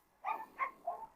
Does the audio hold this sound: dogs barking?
yes